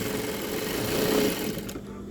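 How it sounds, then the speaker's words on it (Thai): Sewing machine stitching stretchy sweatpants fabric, a steady fast mechanical whirr and rattle at moderate level that cuts off near the end. "เกงวอร์มพวกนี้จะเย็บค่อนข้างลำบากนะครับ เย็บไม่ค่อยติดนะครับ แต่ว่าตัวนี้เย็บได้แล้วนะครับ"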